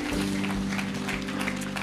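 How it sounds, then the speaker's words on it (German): A church congregation applauds to welcome livestream viewers: a steady, dense wash of clapping fills the room over a low, constant hum, with no pauses and no voices. "Komm, wir geben mal dem Livestream herzlich einen guten Applaus und heißen Sie willkommen."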